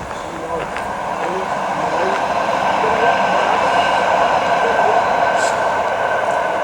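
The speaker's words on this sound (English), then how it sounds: "the canal goes under the railway here, and that was one of the new trains" A new train crosses a railway bridge over the Leeds and Liverpool Canal near Liverpool, a loud continuous rumbling roar that builds slightly and holds steady, with faint rattling and a brief higher squeal near the end.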